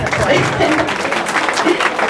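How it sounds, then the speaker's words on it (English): Audience at a student success dinner clapping for a woman being thanked, loud close applause with some voices mixed in. "yes, clap for her"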